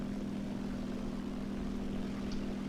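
Steady propeller aircraft engine drone in War Thunder as the plane takes off, a loud continuous hum with a strong low tone that holds level throughout.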